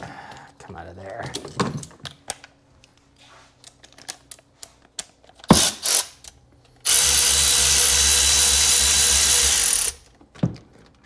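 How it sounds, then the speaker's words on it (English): A power drill runs in a steady, loud burst of about three seconds, with shorter mechanical clicks and clatter around it, during work on a Porsche 951 engine top-end rebuild. A person speaks nearby. "We need a drill."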